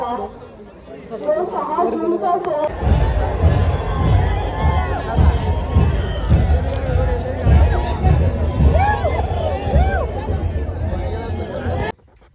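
A large crowd of pilgrims at a fort during the Shivaji Maharaj coronation festival fills the air with loud, dense babble, shouts and scattered cheering that starts abruptly and keeps going, then cuts off near the end.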